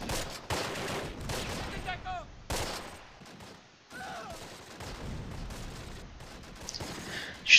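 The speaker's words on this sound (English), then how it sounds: "Why are these guys firing out of the pin? Cursed MG42s." MG42 machine guns firing in the WWII strategy game Close Combat: Last Stand Arnhem, scattered bursts and distant rattling volleys at moderate level, with a few louder cracks and a sharp hit at the end.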